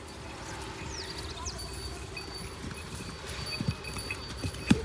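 Steady clopping of hooves as cattle walk slowly, with a few sharper thumps near the end over a low outdoor murmur.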